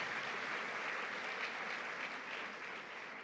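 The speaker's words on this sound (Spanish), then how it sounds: "Dale un fuerte aplauso a nuestro Señor y Salvador Jesucristo." Steady applause from a church congregation, a dense wash of clapping that holds evenly throughout and eases slightly at the end.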